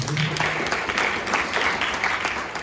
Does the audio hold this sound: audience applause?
yes